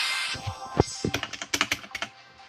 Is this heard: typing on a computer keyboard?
yes